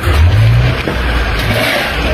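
Cars queue at a coal depot, with a close, loud vehicle engine rumbling and revving steadily throughout.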